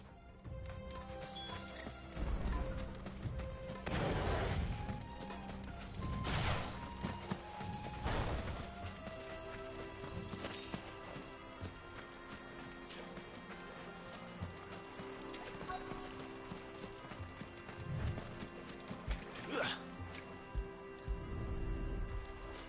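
Horse hooves clip-clopping as they pull a wagon in the video game Final Fantasy XVI, a steady trotting rhythm under game music with occasional louder thumps and clatters.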